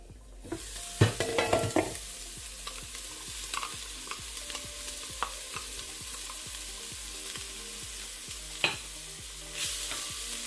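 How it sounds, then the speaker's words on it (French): Minced meat frying in a pan, with onions added; a steady sizzle runs throughout, with stirring clatter near the start and occasional scrapes, and no talking. "Donc nous laissons en fait notre viande revenir vraiment cuire, on va dire. Et là, on va rajouter nos oignons."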